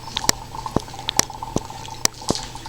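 Dry ice chunks bubble in water, producing irregular gurgling pops and bursting bubbles at close range over a soft continuous fizz, with no talking.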